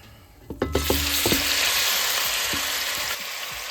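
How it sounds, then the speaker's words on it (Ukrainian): A few clunks as pieces drop into a pan, then a strong, steady sizzle of meat frying up close. "І обсмажуємо м'ясо так хвилин 10"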